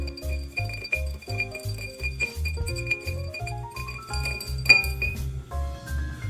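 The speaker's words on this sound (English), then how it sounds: "take our bar spoon and give the whole thing a bit of a stir." A bar spoon stirs a bourbon and peach syrup cocktail in a glass, giving a quick, regular run of close, bright clinks against the glass that continues throughout.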